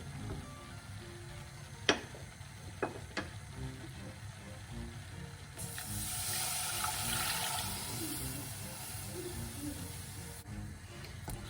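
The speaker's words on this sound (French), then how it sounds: "Donc là, je peux ajouter mon lait." Milk is poured into a béchamel sauce in a pan, a soft steady rushing pour that swells midway, after a few light clinks of the pan and utensil.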